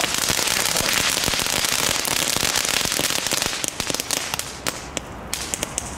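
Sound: crackling firework fountain going off outdoors

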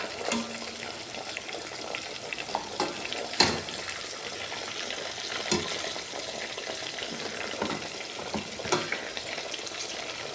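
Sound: rohu fish frying in pan

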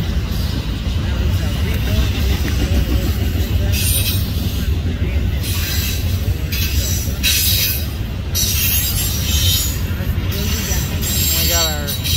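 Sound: Norfolk Southern westbound intermodal freight train passing

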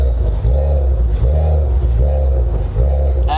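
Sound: Maserati Ghibli SQ4 engine revving, loud exhaust

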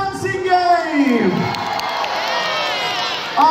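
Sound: audience cheering at a holiday camp game show

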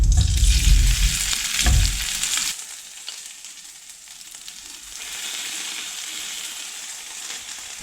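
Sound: potatoes frying in oil

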